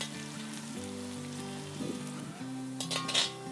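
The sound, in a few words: sliced onions frying in hot oil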